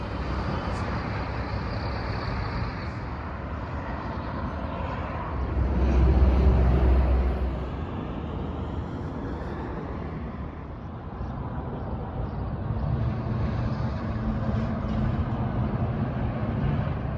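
A 2021 Dacia Dokker 1.6 Eco-G with factory LPG on the move, a steady broadband road and engine rumble throughout, swelling briefly louder partway through before settling back to an even cruise.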